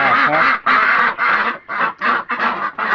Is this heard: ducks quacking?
yes